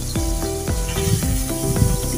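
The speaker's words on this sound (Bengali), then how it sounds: "হালকা করে ভেজে নেব।" Shing catfish fry lightly in hot oil, a continuous close sizzle with a steady hiss and faint crackle.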